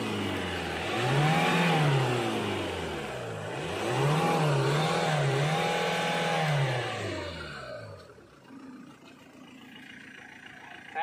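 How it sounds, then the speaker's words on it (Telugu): A car engine, just treated with a carbon-cleaning injection, revs up and falls back several times in smooth swells, then drops to a quieter idle. "ఒకసారి ఇంజిన్ స్టార్ట్ చేయండి."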